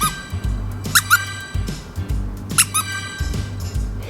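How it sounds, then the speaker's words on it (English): A squeaky pet toy is squeezed repeatedly in quick pairs of high, sharp squeals, close and loud, with short pauses between bursts. "Maybe a squeaky toy or a keyword to get their attention to look at you."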